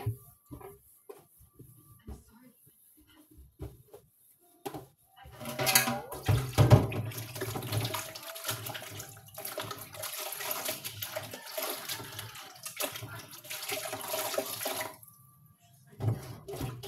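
Water runs and splashes during washing of laundry at home, starting after a quiet opening, a fairly loud continuous rush with clattering that stops near the end.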